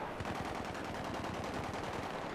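Rapid automatic gunfire in the video game Battlefield 3, a dense, sustained burst of shots fired in quick succession, loud and steady throughout with no talking.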